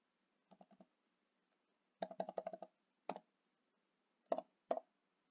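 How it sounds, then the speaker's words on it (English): A computer keyboard clicks in short, quiet bursts of close key presses, a quick cluster here and a single tap there, separated by silence, with no talking. "my keyboard has decided to stop working."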